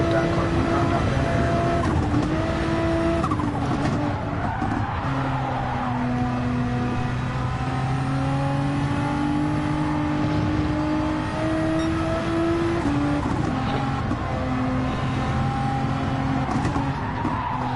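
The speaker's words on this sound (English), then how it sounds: "Look at the speed of that car going around out there." Race cars at Le Mans in Gran Turismo 7 roar continuously with shifting engine tones, tire squeal and passing cars blending into a loud, sustained mix, with someone talking faintly over it.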